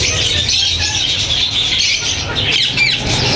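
Ring-necked parrots at a Sunday bird market in Bahawalpur squawk and chatter in a dense, continuous wall of shrill calls, loud and close, with no voices in the foreground.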